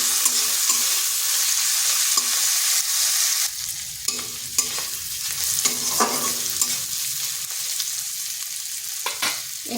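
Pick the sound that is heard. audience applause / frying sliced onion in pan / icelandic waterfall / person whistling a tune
frying sliced onion in pan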